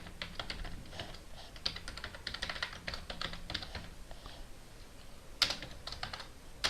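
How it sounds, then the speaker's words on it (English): Rapid typing on a computer keyboard while code is entered, steady bursts of close, crisp key clicks with brief pauses and a sharper tap near the end. "Type exactly as I do."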